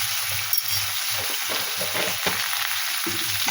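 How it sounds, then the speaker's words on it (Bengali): Cauliflower frying in a pan, a steady close sizzle with soft stirring scrapes, no talking. "দিয়ে আমি ভালো করে এগুলো ভেজে নেব পুরো লাল করে ভাজবে না অল্প ভেজে নেব হালকা করে"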